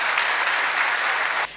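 A hall audience at a diamond jubilee gathering of the Coimbatore Nagarathar association claps steadily for a speaker named Deivanai, dense and even, ending abruptly after about a second and a half.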